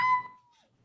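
A single short cat meow, close and clear, tapering off quickly into near silence.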